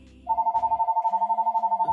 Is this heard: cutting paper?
no